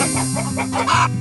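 A chicken clucks in a quick series of short, close, throaty calls, clear and alone.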